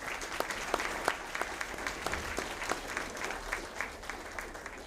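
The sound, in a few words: audience applause at town hall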